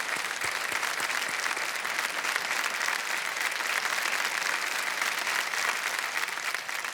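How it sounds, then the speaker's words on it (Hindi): Sustained applause from a large studio audience on the game show Kaun Banega Crorepati, steady and dense clapping filling the whole stretch without pause. "तालियां बज जाए इनके लिए"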